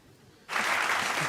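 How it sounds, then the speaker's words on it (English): Clapping starts abruptly after a short quiet moment, then runs as a dense, steady patter to the end, with no talk over it. "I'm gonna clap"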